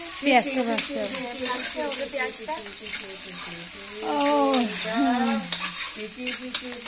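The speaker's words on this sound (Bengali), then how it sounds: "এটা লোহার কড়াই আর লোহার কড়াইয়ে মাংসটা খুব ভালো টেস্ট হয়" Meat sizzles and is stirred in an iron wok over a clay stove, steady frying hiss with scraping strokes throughout while people talk nearby.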